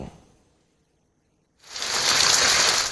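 Rain in Chennai begins abruptly after a moment of near silence and settles into a loud, continuous hiss of falling water.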